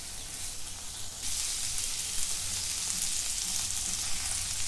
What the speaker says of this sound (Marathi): आता ही तोंडली टाकून घेते। तोंडली पण परतून घेते।